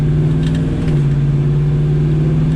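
A 1969 Camaro with newly fitted gears drives under light throttle, a steady, close, loud low engine drone with road rumble and no speech.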